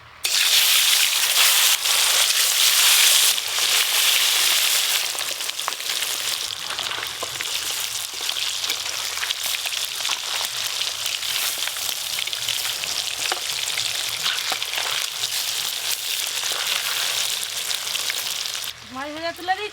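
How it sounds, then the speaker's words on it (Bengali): Fish frying in mustard oil in a home kitchen gives a loud, steady sizzle that holds for nearly the whole stretch, with faint occasional voices and a brief wet scrape near the end. "এবার মাছগুলো ভেজে নেব।"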